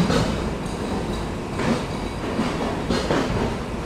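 A train rumbles at Jessore railway junction, a steady broad roar of rolling wagons with faint rail clatter, close and continuous.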